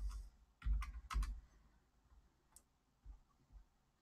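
Someone types a short terminal command, sudo update grub, on a computer keyboard: a quiet handful of crisp keystroke clicks, a couple of clustered taps followed by sparser single presses in a quiet room.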